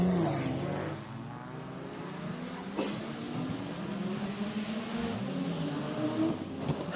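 Drift cars battling at a Borneo drift series round, engines revving hard and droning at a distance, with a rising pitch sweep as one car accelerates through a handbrake entry.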